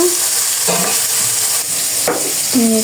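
Bitter gourd fry sizzles loudly in a pan. A utensil scrapes and stirs it in several distinct strokes over a continuous close hiss.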